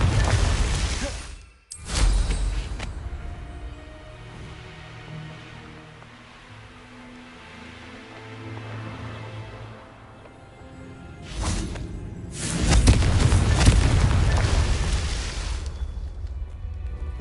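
Confringo blasting spell explosions in Hogwarts Legacy: a sudden burst near the start, then a loud booming blast with rumbling aftermath later, with quieter game ambience between them.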